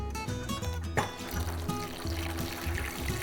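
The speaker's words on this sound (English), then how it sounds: "About, I don't know, about a cup's worth of broth." Broth being poured into a pork posole sauce: a steady, close liquid pour and trickle runs throughout over a low rhythmic background hum, with no talk.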